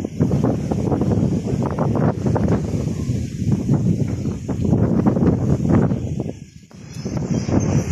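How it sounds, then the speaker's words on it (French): Gusty wind at Banyuls-sur-Mer rumbles and blusters against the microphone, rising and falling unevenly throughout, loud and close. "Aujourd'hui il y a du vent."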